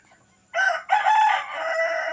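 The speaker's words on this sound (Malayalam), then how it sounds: "ഈ കോഴിമക്കളും വരും സംസാരിക്കാനായിട്ട് പല പല സംസാരങ്ങൾ നിങ്ങൾ കേൾക്കുന്നില്ലേ" After a moment of quiet, a rooster crows once, loud and close, a long drawn-out call that trails off slowly.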